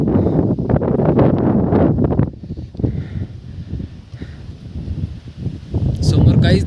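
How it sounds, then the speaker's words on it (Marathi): Strong wind on a foggy mountain trek buffets the microphone in loud, gusty rumbles that rise and fall, mixed with a man's speech throughout. "आणि खूप जोरात वारा चालू आहे."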